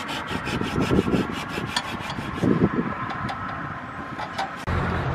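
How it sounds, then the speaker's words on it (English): A small hand saw cuts away a mounting ear on a crashed tow truck's radiator, making quick rhythmic rasping strokes up close, then slower scraping and a clunk. "grabbed a saw, a little hand saw. And he's just cutting away"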